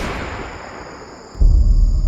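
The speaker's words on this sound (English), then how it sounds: "And then the first gunshot was heard" A single gunshot rings out in a quiet night during a wartime historical retelling, a sudden heavy boom that jumps out of the low background hiss and carries on as a loud low rumble.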